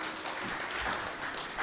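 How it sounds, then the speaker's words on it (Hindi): Audience applause filling a grants ceremony hall in Karachi, Sindh: steady, dense clapping from a crowd, sustained and fairly even for a brief stretch with no talking. "तो इनके लिए भी बहुत सारी तालियां होनी चाहिए जी"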